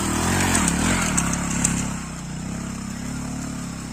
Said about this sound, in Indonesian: Ini guys, ojek sawit di jalan ekstrim guys.